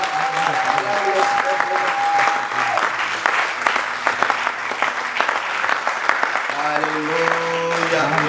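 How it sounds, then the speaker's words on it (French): A church congregation claps together during a celebration service, dense steady applause filling the room with sung or spoken voices and sustained tones over it. "Alors, acclame-les simplement."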